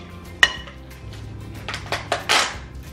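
Half a cup of Daisy sour cream stirred in a bowl for chicken salad, a few close spoon clinks and scraping knocks against the bowl over a few seconds.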